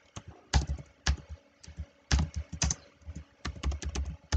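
Keys clatter on a computer keyboard while a QBasic program is typed, close and fairly loud, in irregular bursts of quick taps with short pauses between runs.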